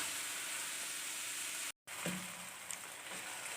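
Sliced onions sizzle steadily in hot oil in a pan for quail karahi. The bright, even hiss is briefly cut by a moment of silence, then resumes with a faint utensil clink.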